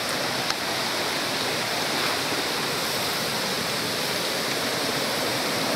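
Rushing water of a waterfall outdoors on a rainy day, a loud, steady, broadband roar heard close up and unchanging throughout.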